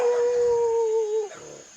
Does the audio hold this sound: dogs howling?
yes